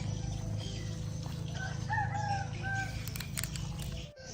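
A rooster crows loudly and close by on a chicken farm in Thailand, a rising and falling call in the middle, with faint clucks around it and a steady farmyard hum underneath, no talking.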